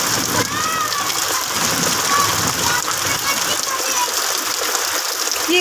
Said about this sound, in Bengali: বৃষ্টিতে কিছু শোনা যাচ্ছে না।